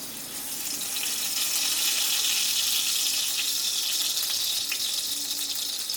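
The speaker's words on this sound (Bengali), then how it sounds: "এবারে আমি এই কচু পাতাগুলোকে একটা একটা করে দিয়ে দেবো" Taro leaves wrapped around small shrimp for chingri paturi are laid into hot oil, giving a loud, steady, close sizzle that holds evenly throughout, with no voices.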